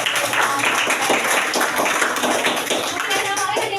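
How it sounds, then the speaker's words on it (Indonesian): Energetic clapping from a classroom of students applauding a classmate, a busy, close patter of many hands at steady loudness with voices mixed in. "Beri tepuk tangan yang meriah untuk Ridho."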